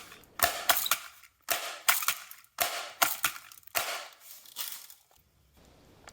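BB gun fired into a foam camper wall panel: a series of sharp, close snapping pops and clacks in irregular clusters, each a crisp transient with brief rattle, separated by short quiet gaps.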